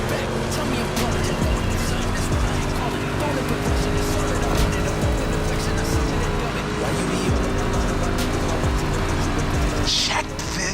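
A rally-raid prepped Ford Mustang GT is driven in The Crew Motorfest racing game, its engine droning and revving continuously with occasional tire squeal, while someone talks over the game sound.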